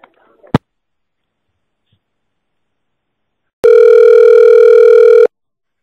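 A telephone line gives a steady, loud electronic call tone lasting about a second and a half, preceded by a brief click and a short rustle, with no talking.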